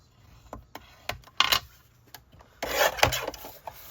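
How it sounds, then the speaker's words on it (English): A bone folder is dragged along a folded card base, creasing it in short scraping strokes, a quiet cluster of rubs followed by a longer, louder pass. "We'll go ahead and fold that in half, and we'll find our bone folder."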